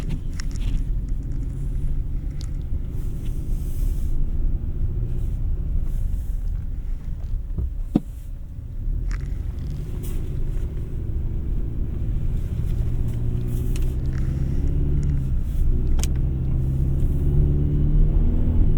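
A 2026 Chevy Silverado 1500 Custom with the 2.7L engine drives along, its steady low, diesel-like engine rumble and road noise running continuously throughout with no talking.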